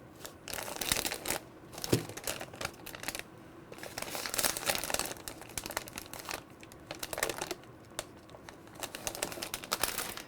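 Crinkly paper-and-plastic sterilization pouches being handled, peeled open and pressed shut, with irregular crackling and rustling bursts close by throughout, no voices.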